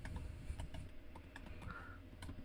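Quiet, irregular keyboard typing as code is entered in Roblox Studio: a run of light, close clicks at an uneven pace over faint low background noise, with no one speaking.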